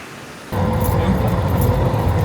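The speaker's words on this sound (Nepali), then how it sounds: "एन्ड दिस इज मदी खोला" The Modi Khola river in Nepal, seen from the Birethanti bridge on the Ghorepani trek, gives a broad, steady rushing roar that cuts in suddenly and stays loud and close.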